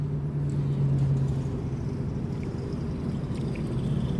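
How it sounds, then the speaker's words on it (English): A passing car drags loose metal, probably its exhaust, giving a steady close rumble with faint scraping over about four seconds, no voices. "That car is dragging something."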